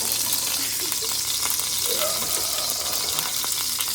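Tofu frying in hot oil in a home kitchen pan, a dense, steady sizzle with crackling pops and occasional stirring, close and continuous throughout.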